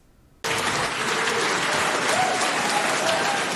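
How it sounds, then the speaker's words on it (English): Applause breaks out suddenly across the chamber of the New Zealand Parliament for a departing Dunedin Labour MP, a dense, sustained burst of many hands that stays loud and even to the end. "Applause from across the House as Dunedin Labour MP David Clark formally bids farewell to politics"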